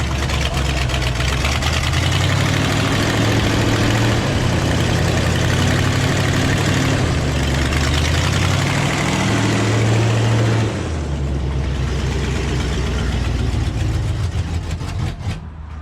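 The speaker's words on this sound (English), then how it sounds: "Got an exhaust leak at the passenger manifold." A Buick V8 engine idles close by with a rough, uneven rumble and a ticking, puffing exhaust leak at the passenger-side manifold, steady throughout with a slight dip late on.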